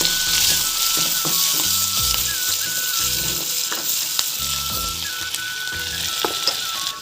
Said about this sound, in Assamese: মটৰ আলু মই তেলত দিম এতিয়া পিঁয়াজ এই কণী ফ্ৰাই কৰা এইখিনিতে দি দিম পিঁয়াজ দিলোঁ